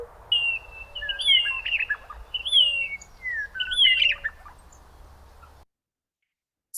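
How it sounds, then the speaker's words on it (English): Western meadowlark, the Wyoming state bird, singing clear, flute-like whistled phrases that repeat several times in a steady rhythm, rising and tumbling, fairly near and alone, before the song stops. "the Western meadowlark is the Wyoming state bird, and it is my absolute favorite bird song"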